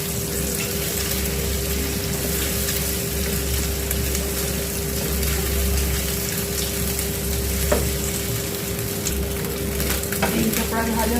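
An egg frying in a pan makes a continuous, fairly loud sizzle close up, steady over eleven seconds, with a low steady hum behind it and a few faint clinks.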